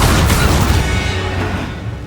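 A loud, sustained blast from the Confringo spell in the video game Hogwarts Legacy, a dense roaring explosion that fills the clip and fades slightly toward the end.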